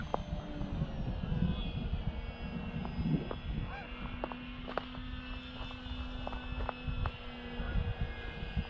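Arrows RC Bigfoot model airplane flying in winter, its electric motor a steady high whine that drifts in pitch as it passes, distant and moderately loud over outdoor wind rumble.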